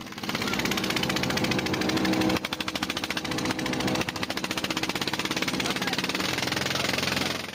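The engine of a Chinese fishing boat at Ayungin Shoal runs loud and close with a steady chugging throb, and a brief knock breaks the rhythm partway through.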